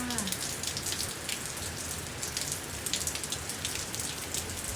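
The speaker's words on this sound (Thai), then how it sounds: "ตอนนี้ฝนตกหนักเลยค่ะ" Heavy rain falls at night in Auckland, a dense, steady hiss of drops on surfaces that stays constant and fairly close throughout, with no voices.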